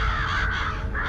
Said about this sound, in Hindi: कौवों की आवाज सुनकर सोनू ने छत की तरफ इशारा किया।